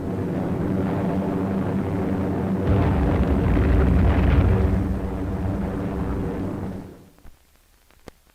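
Explosions from land-based U.S. Marine bombers' airstrikes on enemy airfields on Guadalcanal in the Solomons, a loud sustained roar and rumble of blasts and aircraft that swells midway, then drops to near silence with a few sharp pops at the end.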